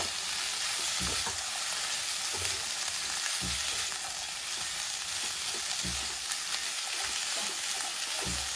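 Sliced tofu with garlic chive flowers sizzles loudly in a pan, a steady hiss of frying broken by regular scraping stir strokes roughly every second, with no talking.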